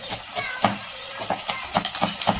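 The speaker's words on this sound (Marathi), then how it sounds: "इथे मीठ टाकल्यावर आहे ना परतून घ्यायचं तेलावर" Tomatoes with salt sautéing in oil as a spoon stirs them, with a steady sizzle under rhythmic scraping taps against the pan, close and moderately loud.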